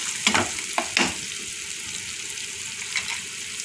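Tomatoes and chili powder being stir-fried in a pan for a potato, pea and cauliflower curry, a steady soft sizzle with a few scraping stirring knocks, no talking.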